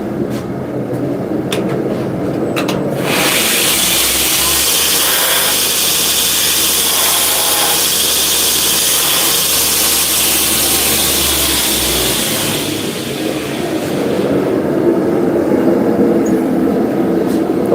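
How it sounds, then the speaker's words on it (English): Angle grinder taking metal off a hand-forged steel piece at a smithing forge, a steady loud grinding roar lasting about nine seconds before it cuts out, with workshop noise before and after. "We're gonna grind this off and start over."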